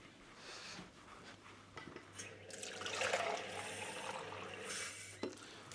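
Water pours into a plastic protein shaker bottle, measuring out about 500 ml, with a running splash and light clinks and knocks from handling the bottle, moderately close.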